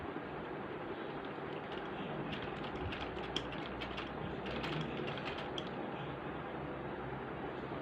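A sewing machine stitches piping onto the side slits of a kameez, giving a steady, continuous mechanical whir with fine rapid ticking throughout, fairly close and with no talking.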